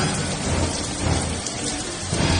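Steady heavy rain pours down with a low rumbling undertone suggesting thunder, continuous and fairly loud, with no voices.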